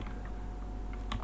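Computer keyboard typing while entering a file path for an ASP.NET Core project, a few soft close keystrokes over a steady background hum, brief and faint with a small burst near the end.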